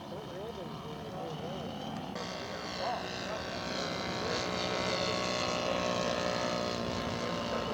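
Scale model airplane flying at an aircraft show, a steady propeller drone that swells gradually and stays moderately loud, with a voice talking over it.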